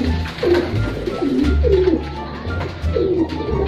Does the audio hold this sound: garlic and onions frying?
no